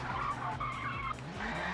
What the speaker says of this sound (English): the rear end just completely spins and flips